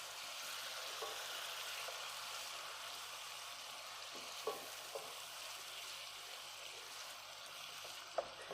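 Ginger, garlic and onion fry in hot oil with a steady, fairly quiet sizzle, and a few soft stirring knocks come through without any voices.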